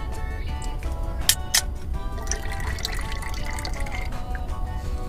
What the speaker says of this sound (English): and then you pour a Red Bull